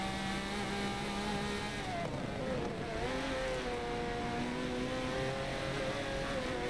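In the SRL Le Mans sim racing game, a race car engine drones loud and steady. Its pitch sags briefly as it bogs, then climbs again through higher revs, with no talk over it.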